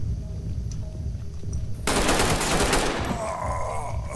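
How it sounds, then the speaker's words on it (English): Gunfire in the Ready or Not police tactical game starts with faint, scattered clicks and then breaks into a loud, close burst of rapid automatic shots lasting about a second, which fades into a ringing tail. "I'm shooting this guy right when I see him."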